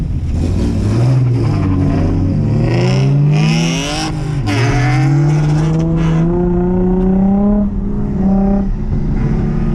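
A drift car launches at a Canadian Drift Series 2024 event, its loud close engine revving and climbing in pitch over several seconds, rising through gears with brief dips and no talk over it.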